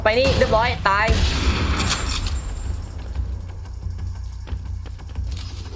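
Gunfire in the Roblox game Decaying Winter, a burst of rapid shots and booms early on under excited talking, followed by quieter mechanical clicks and scattered game sounds.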